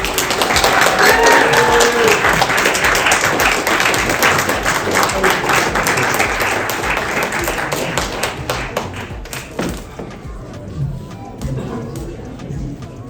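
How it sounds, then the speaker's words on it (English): Wedding party guests at an event venue give a big round of applause after a toast, loud sustained clapping that gradually thins and fades, with some voices mixed in. "Once again, big round of applause."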